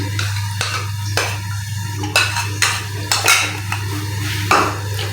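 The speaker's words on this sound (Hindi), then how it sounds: "और अब हम चूल्हे पे रखेंगे कढ़ाई और इसमें मैं ऑयल डाल रही हूँ" A kadhai set down on a home kitchen stove, giving a few sharp metallic clanks and knocks over a steady low hum, with light clattering of cookware in between.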